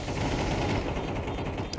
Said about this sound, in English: A cacophony of AK spray.